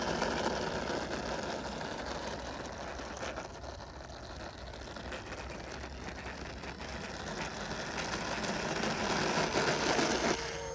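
An E-flite DHC-6 Twin Otter radio-controlled model plane taxis with a steady, buzzing electric whir from its twin motors, fairly close and continuous, dipping slightly midway and swelling again toward the end.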